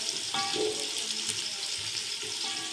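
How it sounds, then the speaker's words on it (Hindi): Beef trotters with onions frying in a pot, a steady broad sizzle running throughout at close range, with small clinks and stirring noises on top. "और इन्हें लाइट ब्राउन होने तक इनको फ्राई कर लेते हैं अच्छे तरीके से।"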